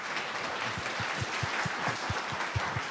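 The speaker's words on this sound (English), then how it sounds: "big round of applause for Michael" A conference audience at NewOps Days in Silicon Valley applauds a speaker after a talk on reliability engineering, a steady, moderately distant wash of many hands clapping with no talking.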